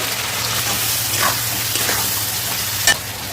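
Cut vegetables (potato, eggplant, beans) sizzling in hot oil tempered with nigella seeds for a Bengali fish curry, a steady loud crackling fry with a few stirring scrapes of the spoon against the pan.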